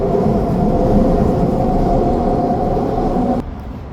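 A SkyTrain passes near 22nd Street station as a loud, steady low rumble and whir of rail cars, continuing throughout and then dropping off abruptly near the end.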